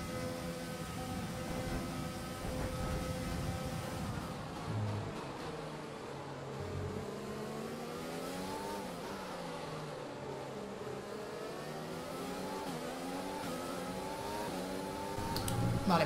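Mercedes Formula 1 engines in the F1 2020 racing game at the British Grand Prix, a continuous high-pitched whine whose tone climbs and drops through gear changes, with more than one car audible, steady and loud throughout.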